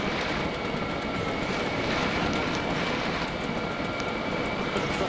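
A thruster engine in the building game Scrap Mechanic runs with a steady, loud roaring rush and a faint high whine on top, unbroken throughout.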